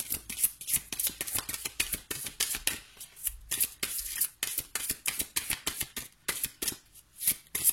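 Oracle cards being shuffled by hand before one is drawn, a quick run of soft crisp riffling slaps in an irregular rhythm, close and fairly quiet.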